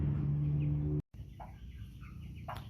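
Five-week-old chickens in a pen make soft, scattered clucks and peeps over a steady background hum, with a brief dropout in the middle.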